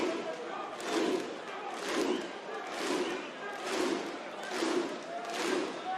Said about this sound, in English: Thunderclap getting going in the crowd, and all the applause at the moment.